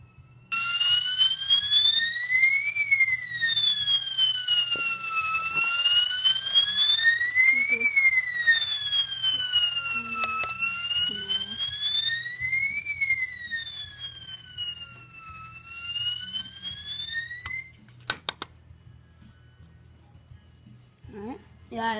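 A fire alarm wails in slow rising and falling sweeps for about eighteen seconds during a system test, loud and close, then cuts off abruptly.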